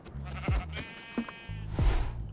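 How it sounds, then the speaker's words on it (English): Sheep in Minecraft bleat three times in quick succession, clear and close, with no talking over them. "Look at so many sheep."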